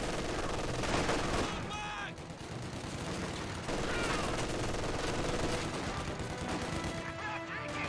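Rifle and machine gun fire from a Company of Heroes 2 battle, with dense overlapping bursts and rapid volleys that crackle continuously at high intensity, along with occasional heavier impacts.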